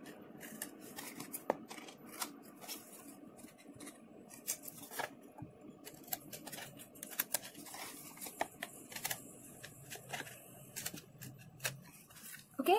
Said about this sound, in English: let's take out our scissors and let's cut out the edges